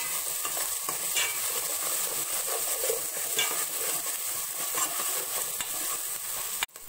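Sliced onions and garlic paste fry in hot oil in a pan, giving a steady, close, loud hissing sizzle with occasional stirring scrapes throughout and a sharp clatter near the end, with no talking.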